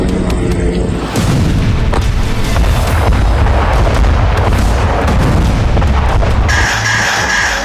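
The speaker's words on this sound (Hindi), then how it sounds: "ये गैलिली के बेथ हिलेल का वीडियो है जहां रात के वक्त हिजबुल्लाह ने 50 से ज्यादा रॉकेट दागे" Hezbollah rocket barrage at night over Beit Hillel in the Galilee, a loud, continuous rumble of booms and blasts layered together, with a high wailing tone at the start and end.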